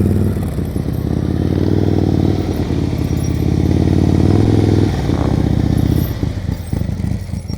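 A motorcycle close by during slow-speed riding practice, its engine a loud, steady low rumble that swells and eases slightly as the rider works the clutch through tight maneuvers.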